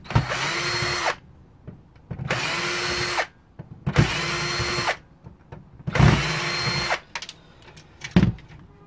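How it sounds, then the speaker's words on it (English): A power screwdriver backs screws out of the case of a vintage 1986 PC: four steady, close motor whirs of about a second each, with short pauses and small clicks of handling between them. "So we'll just release some screws just to get these slot cards out."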